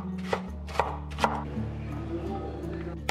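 A knife dicing half an onion on a cutting board: a few sharp, evenly spaced chopping taps close up, then quieter cutting over a low background hum.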